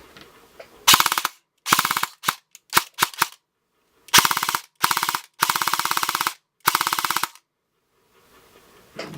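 Airsoft AK-74 gearbox being test fired on an 11.1 V LiPo battery, giving loud, close bursts of rapid mechanical cycling: several short bursts and a few longer strings of fire, separated by silence.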